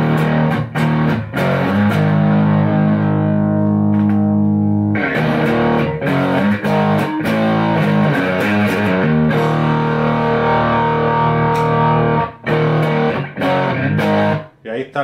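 Distorted instrument tone played through the low channel of a Fender Bassman amp, heard in a comparison of Bassman and Roland JC-120 channels via an ABY pedal; loud, sustained chords and notes with brief pauses, continuous for most of the clip.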